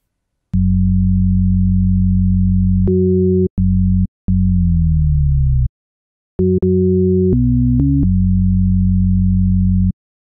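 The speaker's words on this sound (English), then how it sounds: "once you've chosen your 3-time oscillator out of the plugins menu, you're left with the default plugin" Default FL Studio 3x Osc synth plugin tone sounding in three octaves at once: a clean, steady sine-like tone held in long notes with a few short jumps and a downward pitch glide, loud and alone.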